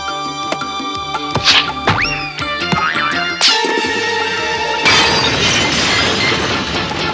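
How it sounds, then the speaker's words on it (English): A lamp smashes to bits in a Berenstain Bears cartoon, a sharp crash and bright shattering burst that spreads into a scattering clatter amid busy cartoon music and effects. "Mama's favorite lamp. Smashed all to bits."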